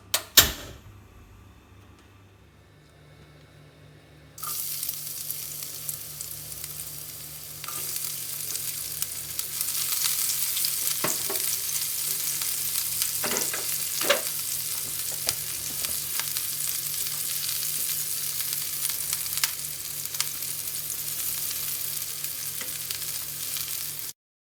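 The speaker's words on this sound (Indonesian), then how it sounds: "beri sedikit minyak goreng untuk menumis bawang putih, bawang merah dan bumbunya" Garlic, shallots and spices sauté in about two tablespoons of cooking oil, a loud continuous sizzle that starts abruptly after a quiet moment and carries on steadily with occasional clinks of stirring.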